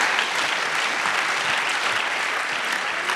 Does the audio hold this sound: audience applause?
yes